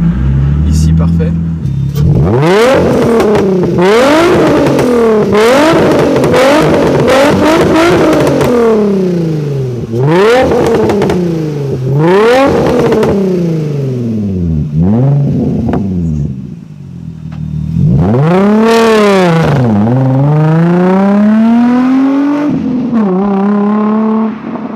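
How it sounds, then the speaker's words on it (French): A Mini GTR fitted with a NOS kit revs hard again and again, its loud engine note rising and falling in rapid sweeps up close, with people talking over it throughout. "La Mini GTR, oh, ça fait un son, c'est magnifique."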